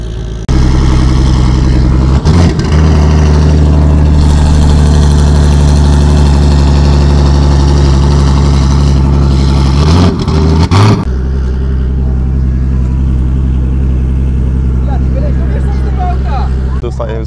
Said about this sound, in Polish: Kolejny pojazd do drag racingu, właśnie na tylne koła, jakie one są szerokie. Silnik BMW,